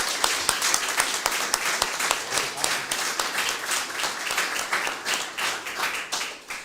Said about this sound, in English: And this is your applause.